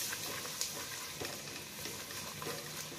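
Diced celery and green peppers sizzle softly in butter in a pan, a faint steady frying hiss with light stirring scrapes and occasional small pops.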